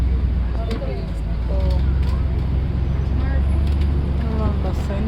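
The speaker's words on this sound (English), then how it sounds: "Bear with me one moment while I merge into traffic here" Tour trolley pulling out to merge into traffic in St. Augustine's old town, a continuous low engine and road rumble with passing vehicle sounds, a voice talking over it.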